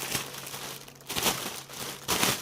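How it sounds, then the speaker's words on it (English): Wrapping paper from a Jeffree Star Deluxe Valentine's mystery box crinkles and rustles close by in three fuller bursts, with softer continuous crackling between them and no talking. "I do apologize for all that wrapping paper sound."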